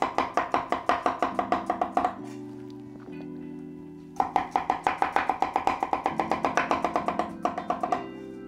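A knife chops small pickled cucumbers on a board for potato salad in quick, even bursts of crisp strokes, broken by a short pause with faint handling sounds, then another long rapid run of cuts, close and clear.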